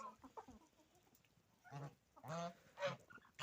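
Geese honking and chickens clucking close by, a few loud overlapping calls in short bursts against a quiet yard.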